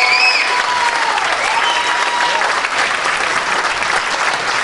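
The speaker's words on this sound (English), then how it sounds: "Big round of applause for Bailey and Joe." A crowd at an amateur ballroom dance competition bursts into loud, sustained applause for a dancing couple, a thick continuous roar of clapping with a few whoops and cheers riding over it.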